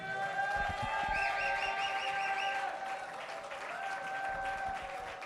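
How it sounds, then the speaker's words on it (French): A church congregation applauding and cheering for the Lord, sustained dense clapping with whistles and shouts mixed in, loud and continuous throughout. "Est-ce qu'on peut acclamer fort le Seigneur?"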